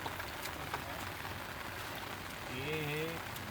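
Heavy rain falls steadily across a village paddy field during rice planting, a dense continuous hiss close by, with faint voices in the background.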